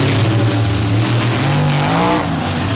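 Race trucks roar into the final turn at Bloomsburg, engines loud and close with steady revving and a rising pitch as they push through the corner, under faint background noise.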